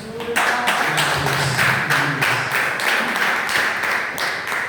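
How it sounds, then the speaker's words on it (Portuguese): A church congregation claps in loose rhythm, fairly close, with a few voices and a sustained musical tone underneath. "uma linda salva de palmas para Jesus"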